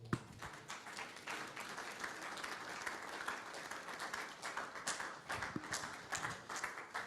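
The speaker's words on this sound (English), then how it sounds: "We can make the applause better" Applause from a conference audience at a CEO/HR forum after a presentation, a moderate wash of clapping with individual claps standing out, steady over several seconds.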